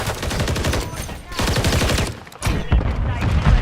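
Rapid gunfire in the video game Helldivers 2, loud dense bursts of automatic fire with brief gaps, mixed with some voice.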